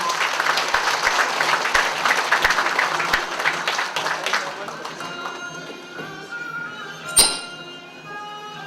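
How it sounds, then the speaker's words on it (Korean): An audience at a Kim Yu-jeong centenary ceremony applauds to welcome a speaker, thick clapping for about four seconds that thins and fades, leaving quiet room tone and a single sharp clink. "박수로 맞이해 주시면 고맙겠습니다"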